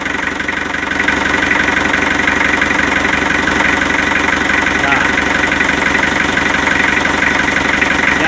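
A worn Mitsubishi L300 engine idles close up, giving off white smoke. It makes a loud, continuous, rough rumble with a steady rhythmic knock and no break.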